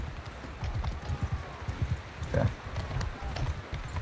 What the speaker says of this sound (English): I'm gonna try and flank with my horses.